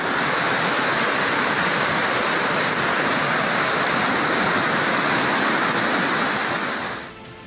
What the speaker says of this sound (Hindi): पानी के इस शोर और नदी के उफान को महसूस कीजिए